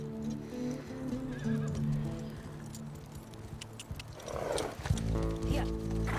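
Horses whinny and neigh near the end over a dense bed of hoofbeats and rumbling movement as riders gallop out through gates in The Last of Us Part II, with music-like tones sustained underneath.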